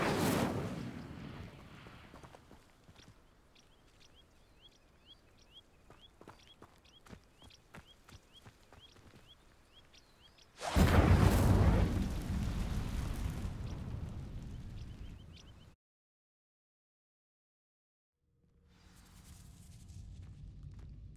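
An Incendio fire spell in Hogwarts Legacy sets dry vines alight, a sudden loud roaring whoosh of flame that burns for several seconds, then cuts to silence before a low rumble resumes. Soft footsteps precede the blast.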